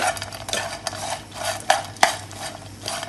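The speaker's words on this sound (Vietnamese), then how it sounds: "Trộn đều" Dried fish with annatto coloring is stirred in a pan, uneven scraping and clinks of a utensil with a few sharp knocks over a faint background sizzle.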